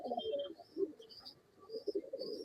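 Pigeons cooing close by at a pigeon seller's in Bangalore, soft low throaty coos repeating in uneven bursts over a faint bed of higher chirps, with no talking.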